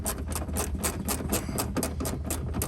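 A ratchet loosening a small 7mm bolt on a 2010-2015 Camaro SS, a rapid run of close, sharp clicking strokes in an even rhythm.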